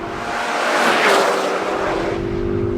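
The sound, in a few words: 2013 Ford Focus ST engine accelerating hard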